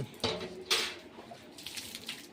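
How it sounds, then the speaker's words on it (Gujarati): Brief splashes of water being poured out, two or three short bursts close by, fairly quiet with small clinks between. "પાણી ઢોળી રહ્યા છે"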